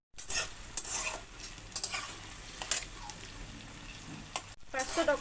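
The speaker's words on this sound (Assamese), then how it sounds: "তেল চিটিকি পৰিছে" Onions fry in oil in a pan, browning over high then lower flame, with a steady soft sizzle broken by scraping stirs and a few clinks of a utensil against the pan.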